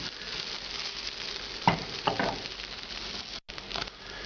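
Peppers, almonds and sesame seeds toasting in a dry pan for Oaxacan pork mole: a soft, continuous crackle and patter with a couple of sharper pops or scrapes in the middle and a brief dropout near the end.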